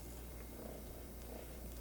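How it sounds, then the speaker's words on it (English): Pet cat purring softly and steadily, a low continuous rumble heard close up but faint, with gentle rhythmic swells and no talking. "You might be able to hear him purring"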